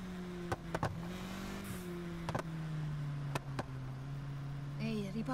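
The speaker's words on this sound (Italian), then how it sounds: "Ma ragazzi, sentite che scoppiettamenti" A car engine idles and hums in Need For Speed Heat while sharp exhaust pops and crackles break out in irregular bursts, some in quick pairs, with faint talk in the background.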